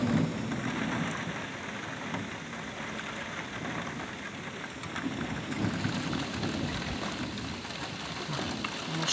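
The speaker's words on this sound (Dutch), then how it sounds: "Die regen, hoor." Steady heavy rain pours down during a thunderstorm in Vorden, with low rumbles of thunder rolling beneath the dense hiss for the whole stretch, loud and continuous.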